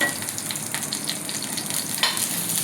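Ginger and garlic sizzling in a pan for a vegetable stew, a soft continuous fry with a few light stirring scrapes.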